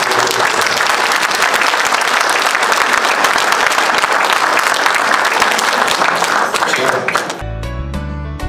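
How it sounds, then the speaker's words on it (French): Sustained applause fills a hall, dense and steady for about seven seconds, then cuts abruptly into a short burst of music. "J'aimerais bien qu'on puisse un peu les applaudir"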